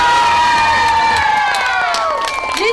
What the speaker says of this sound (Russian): Хлопаем, кричим!